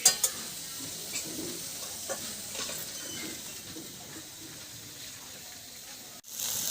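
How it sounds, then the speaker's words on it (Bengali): Jackfruit and potato pieces frying in oil in a pan while cooking outdoors, a soft continuous sizzle with occasional stirring scrapes and a sharper clatter at the start. "কাঁঠাল আর আলুটা ভাজা হয়ে গেছে নামিয়ে নিচ্ছি"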